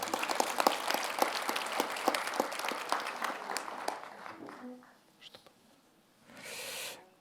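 An audience at a 2023 New Year's civic address applauds for Cécile's birthday, dense clapping that fades out after about four seconds, followed by a brief pause and a short burst of cheering or murmuring near the end.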